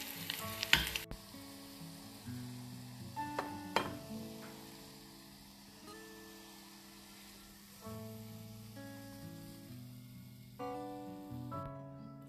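Garlic browning in a frying pan, cooked as part of an aglio e olio dish, gives a soft, steady sizzle over about twelve seconds beneath tonal background music, with a few brief louder clinks early on.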